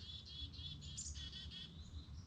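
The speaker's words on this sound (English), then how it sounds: "I got a little school of chickadees" Chickadees chirp close by in a quick run of high, thin calls, soft and without any voices.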